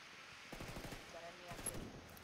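Enemy gunfire in Ghost Recon Wildlands crackles in quick rapid bursts, faint and distant, with a voice talking over the shooting.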